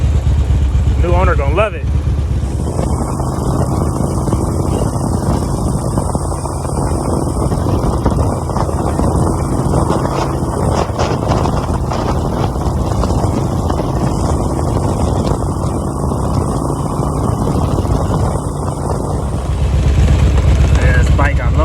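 A Harley-Davidson Road King motorcycle idles steadily and loudly up close for the whole stretch, a constant engine rumble with someone talking briefly over it.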